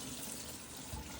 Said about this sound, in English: I'm just going to rinse it, just like this.